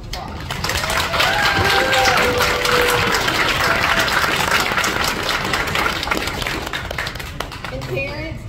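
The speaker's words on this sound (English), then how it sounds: "Let's give them a round of applause." Sustained applause from an audience at a kindergarten graduation ceremony, a dense steady wash of many hands clapping that fills the whole stretch, with voices and cheers mixed in.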